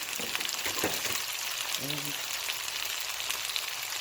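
Chopped onions fry in a pan for Ethiopian chicken tibs, giving a steady, loud, close sizzle throughout, with a brief stirring scrape and a short vocal sound partway through.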